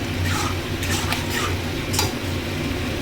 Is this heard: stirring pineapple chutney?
yes